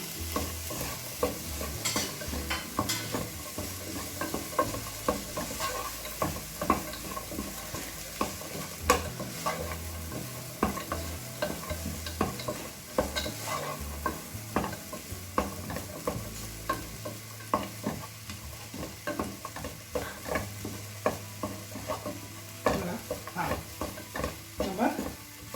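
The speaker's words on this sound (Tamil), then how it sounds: "தக்காளி சேர்த்து" Masala and tomatoes fry in a pan for egg semiya biryani, giving a steady close sizzle broken by frequent scraping and clinking strokes of a spoon as the mixture is stirred.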